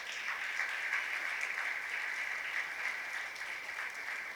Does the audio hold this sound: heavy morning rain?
no